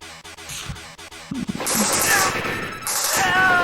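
Rapid light-gun fire in the arcade shooter Operation Thunderbolt, sparse shots at first, then a continuous loud barrage of shooting and explosive crashes during a boss battle.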